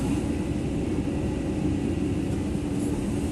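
CAT 312D hydraulic excavator loading a truck, a steady low diesel rumble with broadband machine noise running unbroken throughout, fairly loud and close, no talk.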